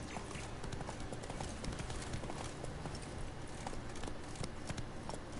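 Steady clip-clop of hooves from Geralt's horse Roach in the Witcher 3 Blood and Wine expansion, a continuous close walking rhythm running the whole time with no talk.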